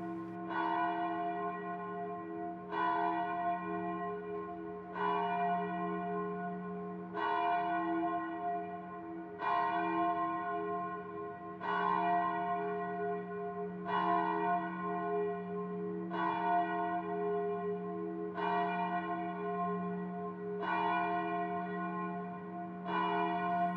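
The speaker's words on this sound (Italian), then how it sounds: "Questa che sentite è la campana di Longarone." The Longarone church bell tolls in slow, regular strokes, about a dozen over the span, each ringing out with a long humming resonance that overlaps the next, heard alone in the silence of a commemorative evening.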